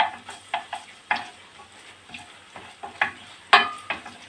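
Vegetables sauté with tomato paste for a vegetable bulgur pilaf, scraped and stirred in a pan with irregular scrapes and soft taps over a light sizzle, close and fairly loud, with no voices.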